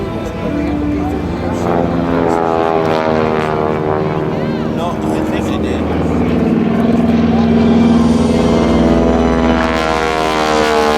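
An AT-6 Texan propeller aircraft flying an aileron roll at an airshow, a loud continuous radial-engine drone with rising and falling harmonic pitch as it maneuvers, steady and close throughout.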